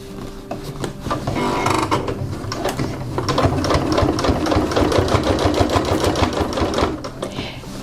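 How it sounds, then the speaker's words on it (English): Sewing machine stitching a jeans hem about an eighth of an inch from the seam edge with a lengthened stitch: a close, loud mechanical whir that speeds up into a rapid, even run of stitch clatter. "Now we're going to be stitching about 1/8 of an inch from the edge of the seam."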